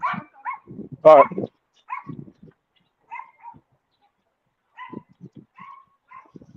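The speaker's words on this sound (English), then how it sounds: "that was a dog barking like right to the left of me" A dog barks close by in a string of short, sharp barks and yips spread across several seconds, with long quiet gaps between them, and someone briefly speaks between the barks.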